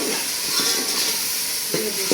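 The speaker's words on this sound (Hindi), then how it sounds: "ये देखो मैं करेले मेरे तल रही हूँ, मैं फ्राई कर रही हूँ।" Bitter gourd (karela) frying in a pan with chillies and salt, a steady bright sizzle and hiss that runs without break, with a couple of faint utensil scrapes near the end.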